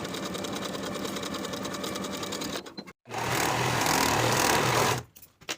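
Sewing machine running in two quick bursts while stitching a seam on a jumper, a fast steady mechanical whir with a brief pause between runs, close and alone.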